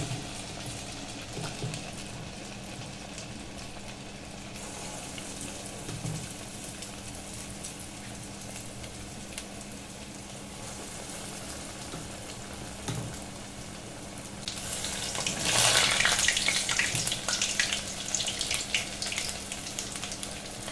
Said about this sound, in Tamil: ரெண்டாவது ஒரு 5-6 வடை போட்டிருக்கோம். எல்லாம் வெந்து வரட்டும்.